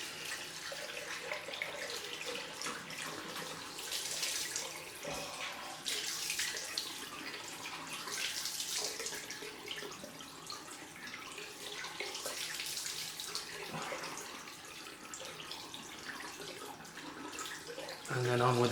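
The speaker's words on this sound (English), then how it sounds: "Cold rinse." Tap water runs steadily from a faucet into a sink for a cold rinse after a straight razor shave. A close, hissing splash continues with uneven surges throughout.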